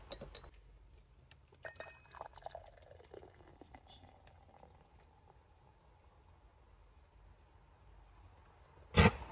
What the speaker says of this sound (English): Let's pop this top, pour it out,